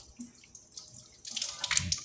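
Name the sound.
washing hands under running tap water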